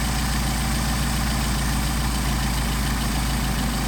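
A Mercedes 190SL engine with Solex carburetors idles steadily, a loud, constant close-up drone with no change across the stretch.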